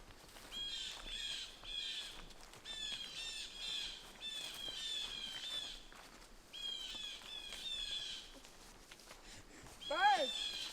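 Wild birds in a Pennsylvania forest (Quehanna Wild Area) in fall give harsh, repeated squawking calls in scattered bursts. A louder, rising call comes near the end over a quiet outdoor background.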